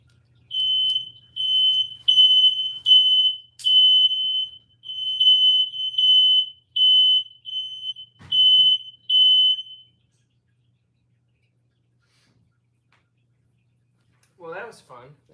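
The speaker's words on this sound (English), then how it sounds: "That was my smoke alarm." A household smoke alarm goes off close by with a loud series of piercing electronic beeps repeated in short bursts. It then falls silent, and a brief sound follows near the end.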